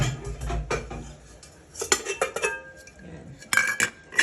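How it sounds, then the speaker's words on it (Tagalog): A metal cooking pot is picked up and handled in a home kitchen, giving several clanks and clinks of pot and utensils, with louder bursts near the start and end. "Kunin ko lang yung aking mahiwagang kaldero."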